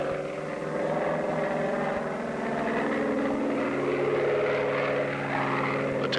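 A Bearcat propeller fighter plane roars steadily through its takeoff, a loud, continuous engine drone with throbbing propeller harmonics that holds strong from start to finish.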